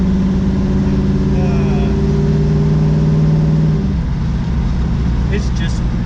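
Old school muscle car engine revving hard at full throttle, a loud, close, sustained roar with rising pitch, dropping back toward a lower rumble near the end, with people talking over it.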